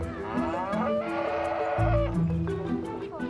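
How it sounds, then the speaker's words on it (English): Prize-winning Highland cattle moo repeatedly in a show ring at a best-of-breed competition. The long, overlapping calls are close and fairly loud, with a deep bellow partway through. "They're going head-to-head with their prize-winning cows, Jem and sister Cara, for the prestigious Be"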